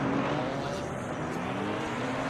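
Race cars in the Simufur GT4 sim racing game rolling through a single-file formation lap at Zolder, giving a steady broadband engine drone with low tonal hum, no single pass standing out.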